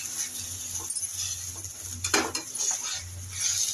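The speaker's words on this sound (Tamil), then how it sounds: "அகத்திக்கீரை நல்லா இப்போ வதக்குவோம் ஒரு அஞ்சு நிமிஷத்துக்கு வதக்கலாம்" Agathi keerai (sesbania greens) sautéing in a pan, with soft sizzle and scraping, clinking stirs of a utensil against the metal, close and steady without talk.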